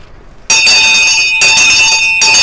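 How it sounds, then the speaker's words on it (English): A town crier's handbell rings loudly and close in repeated bursts of bright metallic clangs, starting after a short quiet pause and continuing with brief gaps, no talk. "have you been ringing the bell today?"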